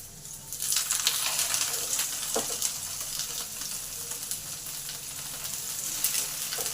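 Fish roe paturi wrapped in bottle gourd leaves fries in a hot oiled pan, giving a loud, steady sizzle and crackle that runs through the whole stretch with no one talking.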